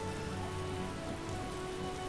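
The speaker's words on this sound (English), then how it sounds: "A real downpour." Heavy rain pours down in the trade quarter of The Witcher video game: a dense, continuous patter of drops on surfaces, loud and even throughout, with a faint steady tonal hum beneath and no speech.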